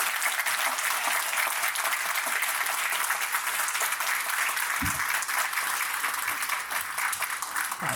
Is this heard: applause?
yes